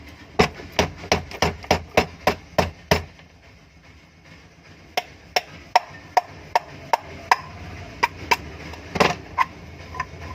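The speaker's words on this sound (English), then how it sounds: "So we can remove it with soft hand hammers." A rubber hammer knocks repeatedly on a motor's end cover to free it, giving sharp, evenly spaced thuds: a fast run of about a dozen blows, a pause, then another steady series, close and fairly loud.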